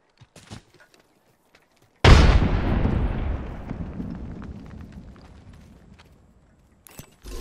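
A frag grenade blows up in the game Apex Legends with a sudden loud, close blast whose rumbling tail fades over several seconds. Light footsteps and clicks are heard before it and again as it dies away.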